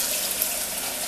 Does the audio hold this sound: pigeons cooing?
no